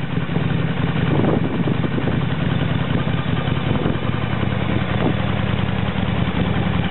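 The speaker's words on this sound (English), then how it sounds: "1997 Harley Davidson 1200 Sportster." A 1997 Harley-Davidson XL1200 Sportster V-twin idles steadily, a close, loud, even low rumble that holds without revving for several seconds.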